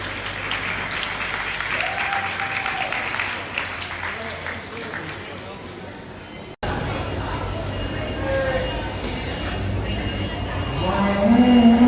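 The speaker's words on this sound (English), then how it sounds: "let's give this class a real good round of applause" A crowd at a cattle show class for steers and heifers at the Big E fair in Springfield claps in a sustained round of applause, briefly cut, then continuing under an announcer's voice.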